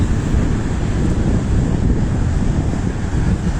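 Stormy Sicilian sea surges against the shore with waves washing onto the road, a loud continuous roar of surf and buffeting wind across the microphone.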